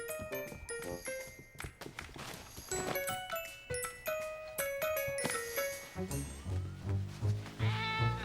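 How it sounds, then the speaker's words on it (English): A cartoon cat meows a few times, short mewing calls over a busy tinkling musical score with plucked and chiming notes, fairly close and clear, with no speech. "Silly cat, get out of there!"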